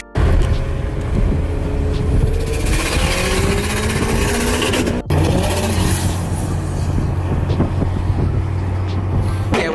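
A car or truck moving at around 50 to 60 mph, heard from an open window as a loud, continuous road and wind roar with engine rumble and a brief dropout midway.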